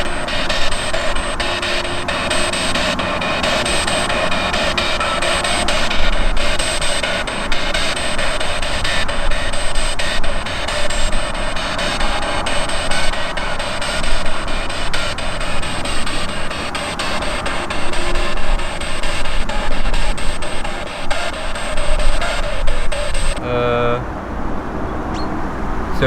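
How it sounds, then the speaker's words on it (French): A continuous, train-like rumbling noise on a recording runs steadily and fairly loud throughout, dense and unbroken, then drops away abruptly near the end. "Un bruit de train, tu vois, en continu"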